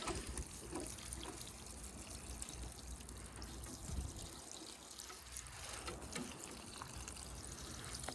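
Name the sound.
watering a plant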